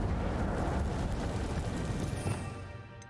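Incendio fire spell cast in the Hogwarts Legacy video game: a loud, dense roaring rush of flame that holds steady, then thins and fades near the end.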